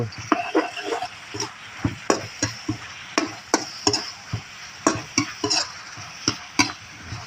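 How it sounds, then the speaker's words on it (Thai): Squid stir-fry for holy basil squid, seasoned with MSG, stirred in a hot pan: a steady run of sharp spatula scrapes and clacks, roughly two per second, over a low sizzle, close and without talk. "คนคุกเคล้าให้เข้ากัน"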